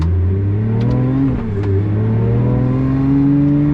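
An 864 hp Pagani Utopia with a manual-gearbox V12 pulls away, its loud engine note rising through the revs, dropping briefly at a gear change, then climbing again, close and continuous.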